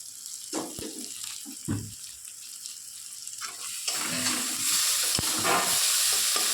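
Cold water poured into a cooking pot of spiced food: a few sharp knocks and scrapes, then a rising, steady rush of water and hissing sizzle that grows louder toward the end, close by, with no speech.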